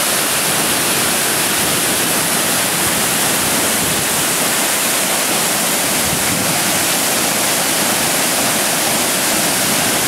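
Waterfall on a Bali hike heard from about 20 feet away, a loud, unbroken roar of crashing water that stays dense and steady from start to finish with no other sounds.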